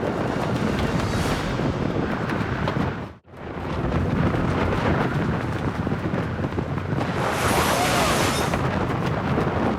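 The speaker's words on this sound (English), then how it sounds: "An unexpected storm has delayed our mission." A sudden storm batters a tent with loud, continuous wind gusts and flapping roar, one brief drop near the middle before the buffeting resumes just as strong.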